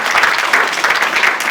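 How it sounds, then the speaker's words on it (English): A brief burst of loud, close clapping from a group of people, dense and steady throughout. "Round of applause for the kids today."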